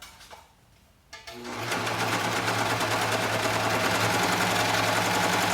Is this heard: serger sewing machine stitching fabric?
yes